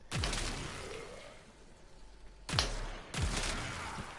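Weapon fire in the Warframe shooter game: three heavy, booming shots with sharp attacks and lingering decays, spaced a second or more apart, loud and close.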